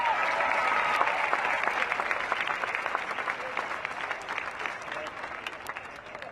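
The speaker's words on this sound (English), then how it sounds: "Can y'all give him a big hand clap, please?" A crowd claps for a speaker at a street protest in Denver, with dense, loud applause at the start that thins and gradually tapers off.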